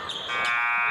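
An end-of-period buzzer at a sixth-grade basketball game between Edgewood and Fond du Lac sounds as a loud, steady electronic tone that starts abruptly and holds for the rest of the brief moment.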